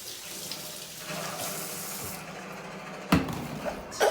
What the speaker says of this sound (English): So just gonna wash my hands